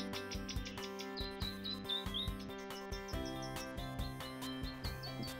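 Birdsong played through speakers to attract wild birds near Wanaka, with repeated chirping phrases heard over a dense, steady musical backing that fills the whole stretch, with no talking.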